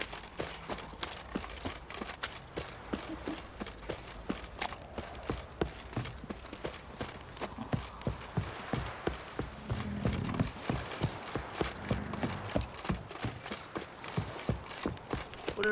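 Horse hooves clip-clop in steady rhythm in The Witcher 3: Wild Hunt, sharp close hoofbeats on hard ground with faint background ambience.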